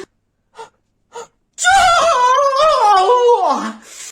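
A loud, drawn-out yawn from a person indoors at night, rising then sliding downward in pitch over about two and a half seconds, preceded by two short faint sounds.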